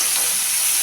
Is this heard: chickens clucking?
no